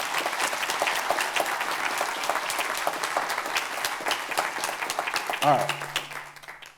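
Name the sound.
audience applause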